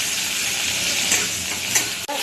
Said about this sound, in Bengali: বন্ধুরা পেঁয়াজটা ভেজে নিচ্ছি